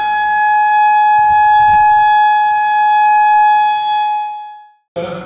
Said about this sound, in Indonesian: sirine terdengar menandai detik-detik proklamasi kemerdekaan Republik Indonesia.